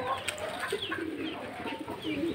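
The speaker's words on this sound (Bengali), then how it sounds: "সব মিলে প্রায় আট জাতের কবুতর আছে" Pigeons at a backyard pigeon farm holding several breeds, including satins, Sirazi and Kings, give low, rolling coos close by, a few overlapping calls over quiet rustling.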